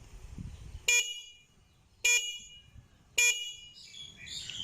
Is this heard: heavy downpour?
no